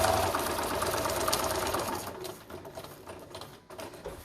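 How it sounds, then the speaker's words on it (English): Sewing machine running a straight seam across a concealed-carry belly band, a steady close mechanical whir that eases and grows choppier toward the end. "I'm going to continue to sew straight."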